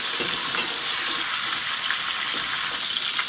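Okra frying in hot oil gives a steady, close, crackling sizzle that never lets up, with no voices.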